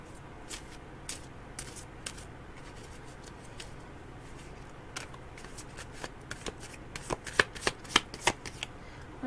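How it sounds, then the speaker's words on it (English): A deck of cards is shuffled by hand during a psychic reading: sharp riffling bursts and soft slides repeat irregularly over a quiet room tone, getting denser and louder toward the end, with no talking. "I got these cards shuffled, they're ready to go."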